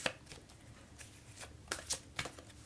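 Tarot cards are shuffled by hand, giving a quiet string of crisp riffling and slapping bursts at an uneven rhythm, close and soft, with no talk.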